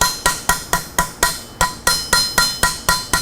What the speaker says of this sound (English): a hammer and an anvil.